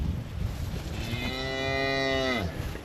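A farm cow gives a single long, loud moo close by. It rises, holds its tone for about a second and a half, then falls away, with no other sound around it.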